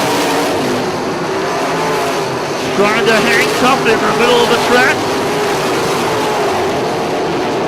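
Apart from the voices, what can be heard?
non-wing sprint cars racing around the track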